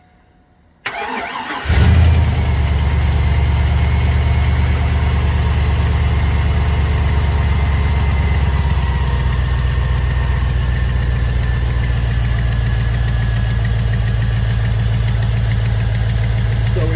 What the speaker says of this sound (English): I'm gonna go start the truck up real quick.